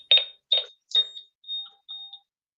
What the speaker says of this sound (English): turning my alarm off